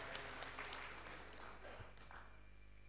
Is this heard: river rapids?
no